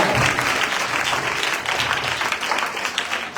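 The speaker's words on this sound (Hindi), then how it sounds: "तालियां।" Loud, continuous applause from an audience at a children's convention in a Pentecostal church, many hands clapping in a dense, sustained roar that barely dips across the whole stretch.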